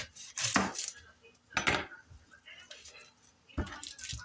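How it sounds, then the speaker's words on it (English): A knife trims both ends off an onion on a chopping board, giving a few separate, close thuds spaced about a second apart amid soft kitchen noise, with a person speaking in between. "let's just chop the ends of this onion off."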